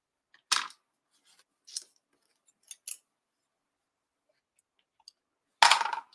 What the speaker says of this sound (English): And grab our scissors.